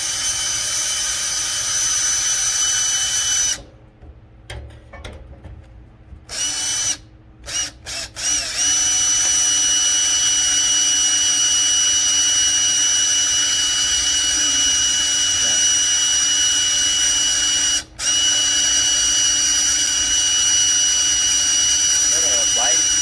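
A power drill whines steadily at close range while boring through a quarter-inch steel plate held in a vise, the motor tone dropping out briefly a few times as the bit stops and restarts before running on.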